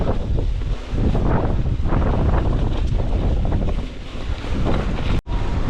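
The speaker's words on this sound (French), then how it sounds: "Il y a un vent de fou." Strong gusting wind buffets the microphone outdoors on a snowy, rutted road while riding, a loud continuous rumbling roar that dominates throughout with only a brief drop near the end.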